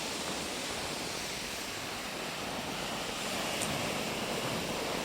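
Steady broadband roar of large seasonal surf with wind noise on the microphone, waves rushing continuously without clear breaks; no one speaks.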